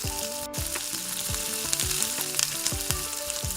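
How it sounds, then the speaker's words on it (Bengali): Chili, garlic and ginger paste fry with spices for chicken biryani, giving a busy crackling sizzle with repeated stirring scrapes and faint tonal squeaks throughout. "মরিচ, রসুন, আদা বাটা ভালো করে নেড়ে চেড়ে নিতে হবে।"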